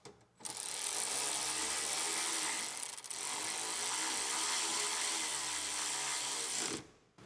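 A power tool runs continuously for nearly seven seconds with one brief dip, loud and close, while the driver's side part is bolted into an Acura RDX during a rebuild.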